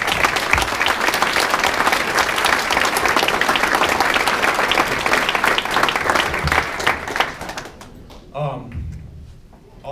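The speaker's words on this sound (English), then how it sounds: "can we get a round of applause for all the people that volunteered?" A large crowd at a high school track and field banquet applauds the volunteers with loud, dense, sustained clapping that dies away near the end, leaving scattered voices and room noise.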